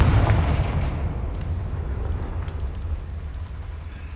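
A Confringo blasting spell detonates in the Hogwarts Legacy video game, a heavy booming explosion at the start that rolls into a low, decaying rumble lasting several seconds.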